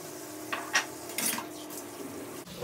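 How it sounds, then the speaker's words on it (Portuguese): Coffee dishes are washed in a kitchen sink, with crockery and cutlery clinking and knocking in a few sharp bursts over a low background of running water. "Vou começar lavando essa loucinha que tem aqui do café."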